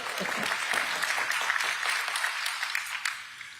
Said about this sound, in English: Please give Tiffany another round of applause as we call her Dr. Lou.